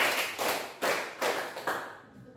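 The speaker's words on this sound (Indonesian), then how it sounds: "Tepuk 1, tepuk 2, tepuk 3, tepuk 4" A classroom of students clapping together in a counting pattern during a maths lesson, four loud, evenly spaced group claps ringing out close by, with no talking over them.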